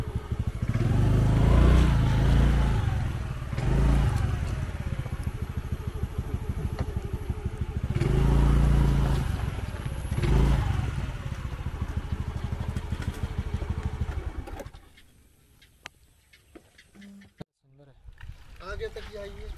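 A motorcycle stuck at a local beach in Wandoor revs and chugs loudly up close, surging in waves with people talking over it, then drops away to near quiet.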